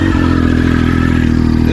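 A 2002 Triumph Speed Triple 955i motorcycle with about 24,000 miles, already warm, starts: a brief crank catches into a loud, steady, throbbing idle close by.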